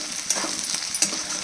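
Onion, potato and peanuts frying in hot oil with a cumin-mustard tempering, a close steady sizzle with a couple of brief stirring scrapes.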